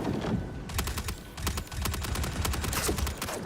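Rapid automatic gunfire from the IAE Alien Day sci-fi game, a loud clattering string of sharp cracks with a short pause before the burst resumes and rolls on steadily to the end.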